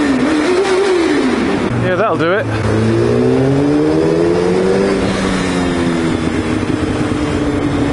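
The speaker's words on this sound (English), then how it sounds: "no exhaust pipe review video is complete without a tunnel rev" Yamaha FZ1-N motorcycle fitted with a Storm Oval exhaust endcan, revved hard inside a tunnel, the engine rising and falling with booming echoes, then a sharp burst of revs and a settling burble as someone speaks briefly.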